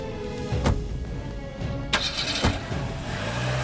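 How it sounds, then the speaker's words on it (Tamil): A car engine starting in a tense outdoor scene from a Tamil TV serial, with a few sharp knocks and a steady mid-level rumble continuing underneath. "டேய் பிரபா, நீ வண்டி எடுறா"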